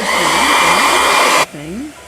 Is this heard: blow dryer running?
yes